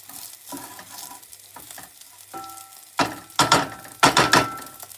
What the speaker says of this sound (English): I allow to fry with onions until the onions are a little bit black or brown fried